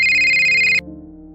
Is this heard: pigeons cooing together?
no